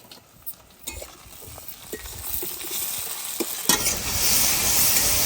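Tomato pieces and green chillies tossed onto lightly browned onion for a village chicken curry, soft scraping and stirring giving way to a sudden louder, sustained sizzle as they hit the hot oil.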